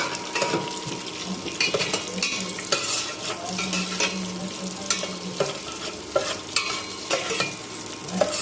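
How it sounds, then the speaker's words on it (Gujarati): Dry fruits roasting in ghee in a pan while being stirred for Gujarati rasiya bhaat, with a steady sizzle broken by repeated scraping and clinking of a spoon against the metal pan, close up and with no talk. "આપણે ડ્રાય ફ્રૂટ સરસ રીતે શેકાઈ ગયા છે"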